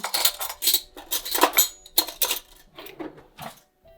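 The back of a teaspoon scrapes the seeds out of a chili, giving several short, close scraping and clinking bursts of metal against a plate or board, separated by brief pauses, with no talking.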